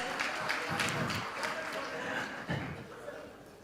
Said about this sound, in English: Once again, a warm, warm round of applause